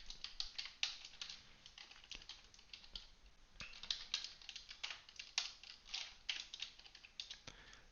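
Computer keyboard keys being typed in bursts of quick clicks, close and fairly quiet, while code is written out.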